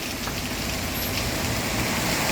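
Heavy monsoon rain falls during flooding in Perambra, Kerala, a dense, steady hiss and patter that stays at even loudness throughout with no voices.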